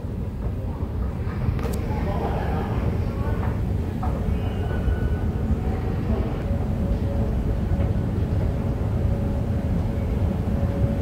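A train in Taipei rolls along the rails with a steady, loud rumble and a sustained whine, the noise continuous from start to finish.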